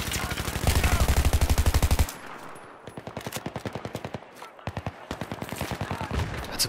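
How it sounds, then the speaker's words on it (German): Rapid bursts of automatic gunfire in Battlefield 3, a loud sustained volley followed by several shorter rattling bursts, with brief pauses between them. "von wo werde ich denn hier beschossen?"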